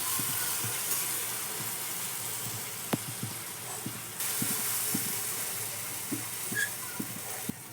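Balushahi sweets frying in hot oil, a steady close sizzle and hiss throughout with a series of small clicks and taps from the utensil as the sweets are turned.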